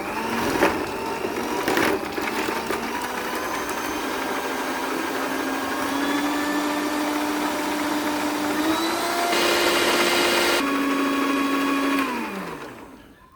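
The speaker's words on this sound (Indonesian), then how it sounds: "Mixer dengan kecepatan tinggi selama 15 menit." Electric mixer at high speed beating white shortening and butter for buttercream, a steady loud motor whine with a droning tone that shifts up slightly partway through, then winds down as it is switched off near the end.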